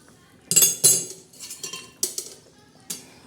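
A metal plate used as a lid is lifted off a cooking pot, clattering and clinking, with two sharp knocks close together, then lighter scrapes and taps, one more clink near the end.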